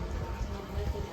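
Rain falls steadily as a soft, even hiss of many drops pattering on a surface, with no voices.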